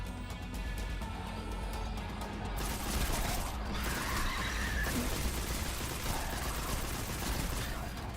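Rifle fire in the video game Destiny 2 comes as dense, continuous bursts of shots over a thick wash of game noise, loud and sustained throughout.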